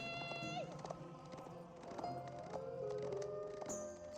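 Busy game audio with hoofbeats clattering amid layered tones and effects, a horse whinnying briefly, fairly loud throughout.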